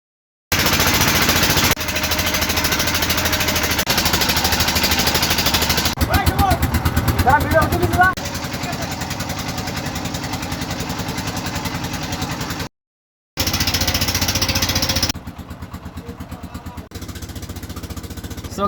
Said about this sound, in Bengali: এই ট্রলারের মাধ্যমে এখন আমাদের যাত্রা বা গন্তব্যস্থলে যাত্রা শুরু হবে